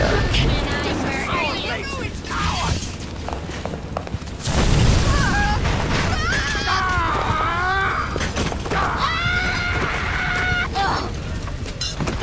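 Fire and an explosion from the Incinerate plasmid in BioShock, a sudden heavy burst midway amid crackling flames and other game effects, with voices talking over much of it.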